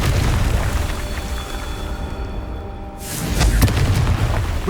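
Confringo fire spell exploding in the Hogwarts Legacy video game, a loud booming burst that swells after a brief dip in a dense, rumbling game soundscape.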